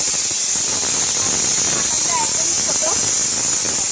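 A pressure cooker whistle blasting off steam, a loud continuous hiss up close that holds steady throughout, while the weight spins and family members talk faintly beneath it.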